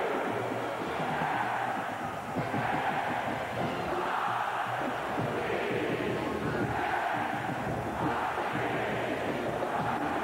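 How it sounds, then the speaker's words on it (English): Stadium crowd at a college football game, Nebraska against Washington in 1997, a steady roaring wash of many voices with swelling cheers, loud and continuous, with a commentator's voice over it. "Crowd now a bit livelier than they were some time ago."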